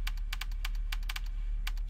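Rapid bursts of keystrokes on a computer keyboard during a session of the co-op shooter GTFO, clicking in uneven clusters over a steady low background hum, with no talk.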